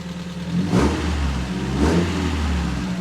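A 1994 Mazda MX-5 Miata NA, running again after a timing belt job, idles nearby and is revved twice in quick succession, each rise climbing and dropping back to a steady idle.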